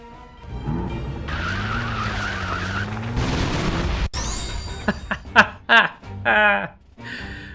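Car in the video game Disaster: Day of Crisis starting slowly, then pulling away and skidding, with a revving engine and sharp tire squeals over a tense soundtrack, loud and close.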